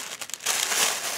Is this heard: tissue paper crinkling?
yes